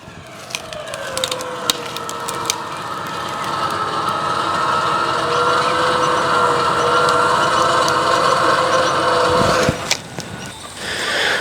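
A ute engine runs steadily while a winch hauls on a fence end assembly, a loud sustained drone with rising mechanical whine and a few sharp clicks, ending in a sudden clunk near the end.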